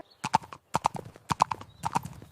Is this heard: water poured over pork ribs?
no